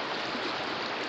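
Brief burst of river water flowing, a dense steady rushing wash heard up close and alone, with no voices.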